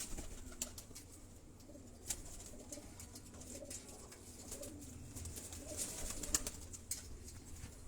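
Pigeons coo softly and steadily at a distance amid quiet outdoor background noise, with a few sharp clicks and no voices.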